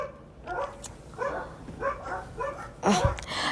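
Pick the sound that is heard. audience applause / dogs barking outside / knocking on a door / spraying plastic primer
dogs barking outside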